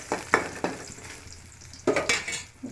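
Crushed garlic sizzles in hot tempering oil, with a few sharp crackling bursts and stirring clinks against the pan over a low steady fry, close and quiet.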